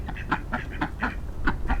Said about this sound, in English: He's a mallard duckling,